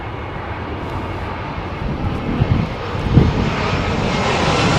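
An airliner's engines roar loudly and continuously as the plane comes in to land in a storm at Heathrow Airport, with gusty wind noise mixed into a steady, broadband rumble.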